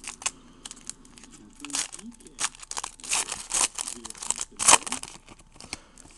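A foil pack of 2008 NFL football trading cards is torn and crinkled open up close, with irregular bursts of crackly tearing and rustling over roughly six seconds.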